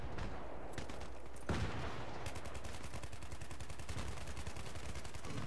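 Rapid bursts of automatic gunfire from Battlefield 3 rattle in fast, evenly spaced shots, loud and close, with a heavy blast partway through and no talking.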